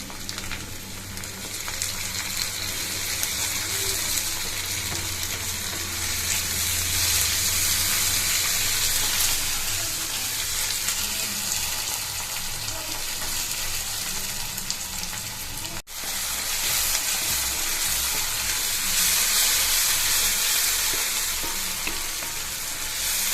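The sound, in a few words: tomato frying in a pan for sardine curry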